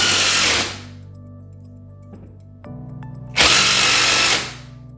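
A power drill drives a screw into a TV wall mount on a wall with no studs. It gives two loud whirring bursts, one at the start and one later, separated by a quieter stretch with faint clicks.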